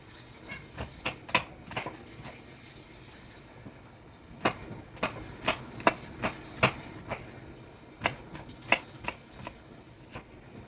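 A knife dices food on a cutting board in quick bursts of sharp, close knocks, with a brief pause between runs of chops.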